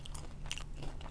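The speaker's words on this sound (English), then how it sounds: "Ooh, I hear crunch. That's soft toffee." A single soft crunch of teeth biting into soft toffee from Finland, brief and close, with faint chewing texture, no talk.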